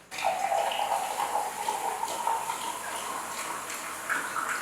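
Tap water runs steadily into a big cup in a home kitchen, a continuous close splashing stream from start to end.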